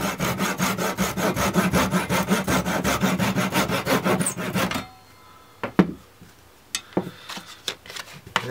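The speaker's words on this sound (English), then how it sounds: "flush saw the outer dowel" A flush saw cuts through a wooden dowel with fast, regular back-and-forth strokes for several seconds, then stops, leaving a few scattered knocks and taps.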